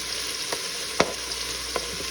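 Onions and pork sizzle and fry steadily in a pan, with a few soft stirring scrapes over the continuous crackle.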